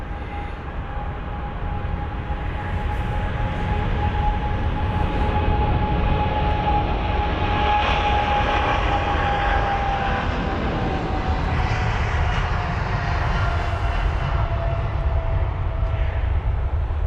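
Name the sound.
jet airliner departing London Heathrow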